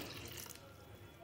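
Water pours into a washed pan for boiling eggs, a steady running splash close by that holds briefly, then eases off.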